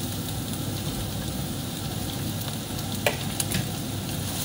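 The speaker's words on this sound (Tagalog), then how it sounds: "Unahin ko po muna yung ating sibuyas." Onion sizzling in a hot pan while a Filipino eggplant dish is cooked, a steady dense frying hiss up close with a couple of faint stirring clicks.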